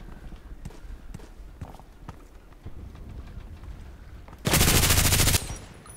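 Gunfire in the video game Contract Wars: a long continuous automatic burst of about a second, loud and close, after scattered lighter shots and movement noises.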